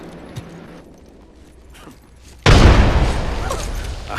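Frag grenade exploding in Apex Legends, a sudden loud close blast after a quiet stretch of faint game ambience, followed by a sustained rumbling roar that slowly fades.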